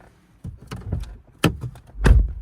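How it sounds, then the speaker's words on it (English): A car door's central locking, working again after a module repair, gives a series of close mechanical clicks and thunks, with a sharp actuator snap midway and a heavier clunk near the end, over near silence. "the door unlocks"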